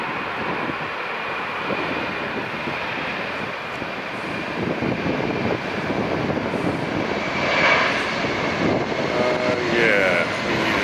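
A Southwest airliner in desert livery rolls down the runway at LAX, its jet engines roaring steadily and swelling slightly as it gathers speed, with wind buffeting the microphone.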